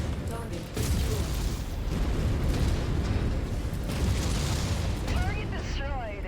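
Explosions and heavy booms from a destroyed target in the mech combat video game MechWarrior 5, dense rumbling blasts filling the whole stretch, with clipped radio-style game voice chatter over the top near the end.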